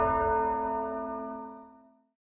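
A single struck bell chime opens a political podcast, a clear ringing tone with bright overtones that decays smoothly over about two seconds, heard alone without speech.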